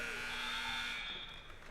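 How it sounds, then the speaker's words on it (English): The final buzzer sounds at a varsity girls' basketball game in a gym, a sustained, loud electronic tone that holds steady and then fades. "And there's your final buzzer."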